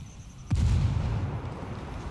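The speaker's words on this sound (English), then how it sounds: "Oh, shit, I just threw a grenade" A grenade explodes in Ghost Recon Wildlands, a single sharp, loud blast that hits abruptly and then rumbles low for over a second before fading into the background.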